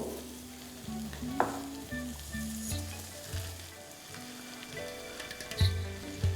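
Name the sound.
soaked rice added to frying tomato masala in pan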